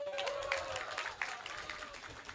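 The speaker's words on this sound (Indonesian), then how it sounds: "Teman-teman boleh tepuk tangan" Applause from an audience of young people at a political town-hall event in Lampung rolls on steadily, a dense mid-level clatter of clapping with a faint voice threading through it.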